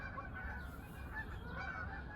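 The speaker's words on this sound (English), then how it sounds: "you can hear a huge flock of geese going overhead" Large flock of geese honking as it passes overhead, faint and distant, with overlapping calls blending into a soft continuous chorus.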